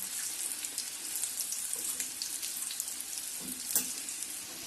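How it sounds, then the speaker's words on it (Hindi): Beef shami kababs frying in oil in a pan, a dense continuous crackling sizzle, close and steady, with no talk. "एक तरफ से फ्राई हो चुके हैं, इनको मैंने दूसरी तरफ से फ्राई किया।"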